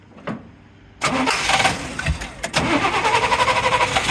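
A classic Camaro convertible's 327 V8, with a 4-barrel carburetor and bored 30 over, cranks briefly, then fires up into a loud, rumbling idle with rhythmic pulsing and a couple of revs, close by.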